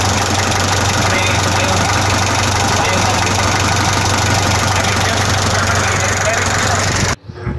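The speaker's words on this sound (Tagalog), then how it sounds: "Okay na tayo sa makina, nakapaandar na tayo." An Isuzu truck engine runs after being started, a loud, steady idling rumble with a knocking pulse that holds evenly before cutting off abruptly near the end.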